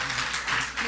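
Church congregation applauding to welcome a preacher at a Sunday service, a brief dense burst of clapping that stays even throughout.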